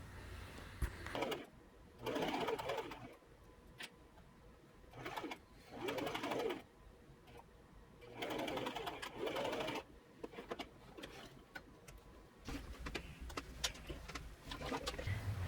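Sewing machine stitching the waistband of a cotton elastic-waist dress, several separate runs of rapid close mechanical whirring lasting one to two seconds each, with quiet pauses between them.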